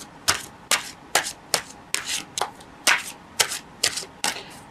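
Gilded Reverie Lenormand cards are shuffled by hand in about ten quick, evenly spaced riffling bursts, crisp and close, with no voices.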